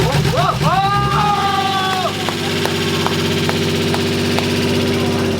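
A Nissan 180SX with an RB20 engine runs close by, a steady loud idle with a whirring pump-like whine rising and falling early on and faint ticking over the drone, with a voice speaking over it.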